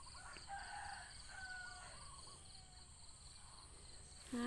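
A rooster crows among chickens foraging in a rural garden, faint and distant, with soft crickets and birdsong in the quiet background.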